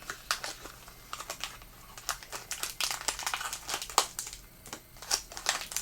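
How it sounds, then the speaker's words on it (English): A cardboard Bearbrick toy box is torn and crumpled by hand in rapid, irregular bursts of crisp ripping and crinkling, close and fairly loud throughout. "I'm tearing up the box."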